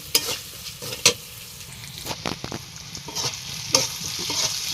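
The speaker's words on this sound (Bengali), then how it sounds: "ভালো করে নাড়াচাড়া দিয়ে মশলাটা ভেজে নেব।" Spice paste of ground dried chilli, garlic and cumin frying in a pan while being stirred, a low continuous sizzle broken by sharp scraping clicks of the spoon at irregular intervals.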